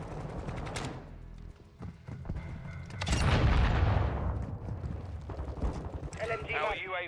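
Sustained bursts of RPK light machine gun fire in Modern Warfare II multiplayer rattle near and loud, with a heavy booming stretch midway, mixed with in-game radio voices and other battlefield chatter.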